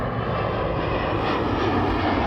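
A fixed-wing airplane passes overhead during evening planespotting in crosswind conditions, a steady broadband engine roar that stays loud throughout.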